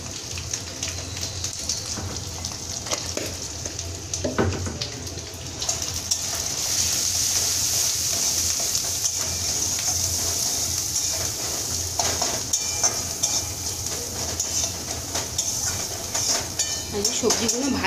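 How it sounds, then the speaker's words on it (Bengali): Vegetables frying in a pan give a steady, rain-like sizzle and crackle that swells after a few seconds and holds at a moderate level, with occasional faint clinks and background voices. "সবজিগুলো ভাজি নিয়ে একসাথে কষিয়ে দিব"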